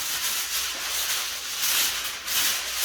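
Aluminium foil being pulled out and handled while insulating a cooler lid, a close, bright crinkling and rustling hiss that swells and eases over a few seconds with no talk.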